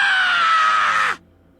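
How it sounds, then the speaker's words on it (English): Kazuichi, a video game character, lets out one loud, shrill scream that slides downward in pitch for about a second and then cuts off abruptly. "I hear Kazuichi screaming like a banshee."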